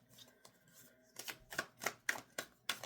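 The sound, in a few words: shuffling tarot cards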